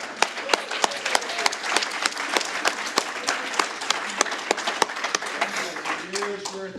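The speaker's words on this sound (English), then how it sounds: "And let's also give a big round of applause to Mike Bear for a fantastic year." A room of people at a Kiwanis club meeting applauding together, lively clapping with distinct sharp claps standing out near the front, and a few voices heard toward the end.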